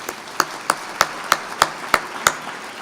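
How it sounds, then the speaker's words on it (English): At a charity luncheon, several evenly spaced sharp claps ring out in a slow steady rhythm, about eight in a row over a quiet room background, rather than a full crowd ovation. "that deserves applause"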